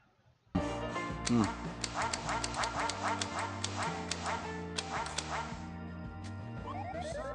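Cartoonish electronic duck quacks from the Nintendo game Duck Hunt repeat in a quick, steady series over the game's chiptune music, close and clear, ending in a short descending jingle.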